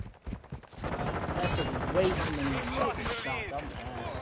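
Rapid gunfire from a gun in a video game, a dense run of repeated shots crackling over several seconds while someone talks loudly over it.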